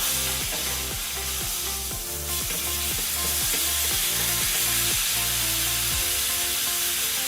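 Lamb chops sear in a hot pan with a loud, continuous close-up sizzle, overlaid by a regular rhythmic clicking pattern, and no talking.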